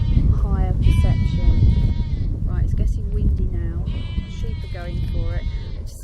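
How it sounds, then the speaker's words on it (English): Sheep bleat repeatedly in a windy open field in the UK, several calls near and loud in two bursts, over steady wind rumble and with people talking in the background. "Sheep are going for it."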